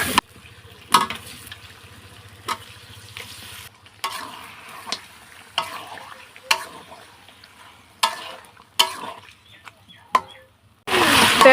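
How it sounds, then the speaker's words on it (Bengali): Ground spices frying with garlic in a pan for a spicy country-rooster curry, with a splash of water added; sharp bursts of sizzling and stirring scrapes come in repeated intervals over a steady low hiss, close and clear. "মশলাটাকে কষানোর জন্য আমি অল্প একটু পানি দিয়ে দেবো।"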